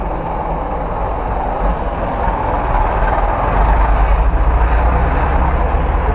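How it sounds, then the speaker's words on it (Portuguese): A Volvo FH12 tractor-trailer turning in city traffic, a heavy diesel rumble with a dense low throb that swells louder toward the end, captured from inside another truck with no talking. "Olha o carretão virando aí, ó."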